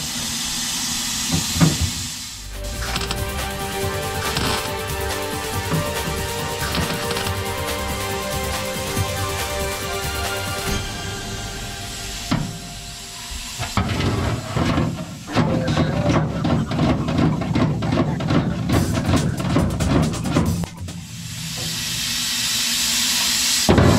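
Welding on the driver side floor panel of a 1981 Monte Carlo: a steady, close hiss and crackle that holds for long stretches, broken by a few short pauses and then restarting in bursts.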